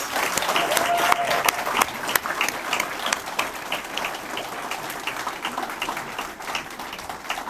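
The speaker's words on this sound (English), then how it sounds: "please join me for another round of applause for all our fabulous speakers" Applause from a town hall meeting audience, a dense, continuous roll of clapping that holds strong then gradually thins, with a brief tone and faint voices mixed in underneath.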